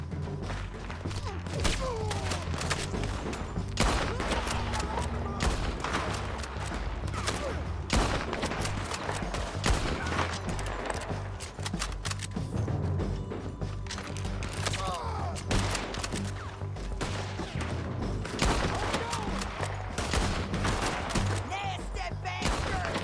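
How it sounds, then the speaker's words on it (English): A Red Dead Redemption 2 shootout rattles with rapid, overlapping gunshots, dense volleys and scattered heavy reports that keep up without a break, with occasional shouted voices mixed in. "Keep shooting until they're not."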